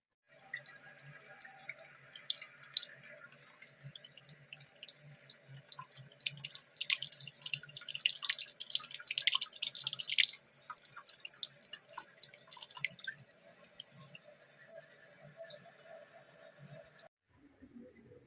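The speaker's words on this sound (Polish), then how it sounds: "do 100 ml Wody wlewamy 100 ml kwasu azotowego, a później kolejne 100 ml do zakończenia reakcji." Nitric acid, about 100 ml, poured into water while recovering gold from BGA chips, a quiet trickling and splashing pour that builds toward the middle and then thins out before stopping abruptly.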